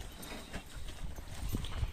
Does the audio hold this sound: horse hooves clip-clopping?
yes